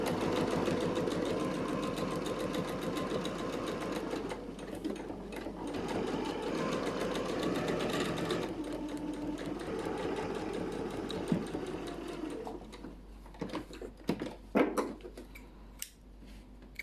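A sewing machine stitches a cathedral window quilt block with a steady, continuous whir for about twelve seconds, then slows into scattered short runs and clicks near the end.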